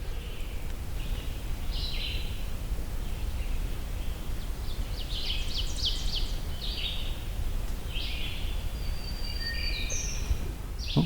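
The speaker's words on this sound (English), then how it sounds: "Oh, black-throated green warbler." A black-throated green warbler sings several high, buzzy phrases from the woods, repeated at intervals over a soft, steady outdoor background, with no talking.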